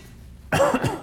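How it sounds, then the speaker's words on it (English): Brief silence, then a single short, husky cough up close, loud and sudden. "Sorry for the cough."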